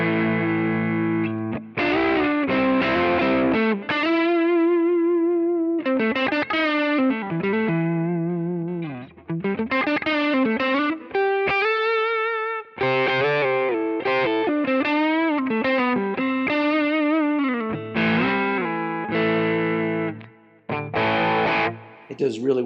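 A PRS SE Studio Standard electric guitar, lightly overdriven at low gain, plays bluesy phrases with bends and sustained notes, warm and slightly gritty, continuous and up close.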